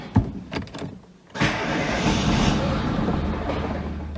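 A ZAZ Sens car that stalls and won't restart cranks after a few soft clicks and knocks, then its engine catches into a steady, close mechanical roar that holds to the end.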